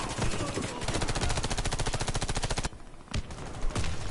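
A weapon in the Warface video game fires a rapid, evenly spaced automatic burst lasting about two seconds, loud and close, then a few isolated shots after a brief pause.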